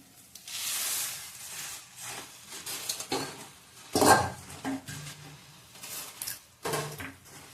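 Puffed rice with salt, coriander and cumin powder being tossed in a pan for Kolhapuri bhadang, heard as quiet, dry rustling and scraping in irregular bursts separated by short lulls.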